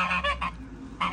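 Geese honking in a colony, three loud nasal honks close by in quick succession, separated by short quiet gaps.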